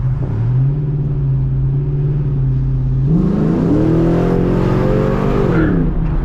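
A cammed pickup truck making 450 hp accelerates hard in tow haul mode, its engine droning steadily, then climbing in a loud rising rev before easing off, heard from inside the cab.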